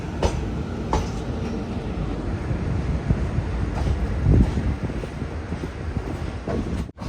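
A train pulls into Bantwal railway station with a steady, rumbling roll of wheels and carriages, mixed with gusty wind buffeting the microphone; no voices.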